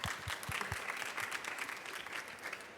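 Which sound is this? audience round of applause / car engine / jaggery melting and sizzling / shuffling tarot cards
audience round of applause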